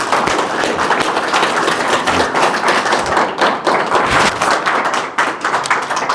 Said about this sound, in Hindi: एक ताली हो जाए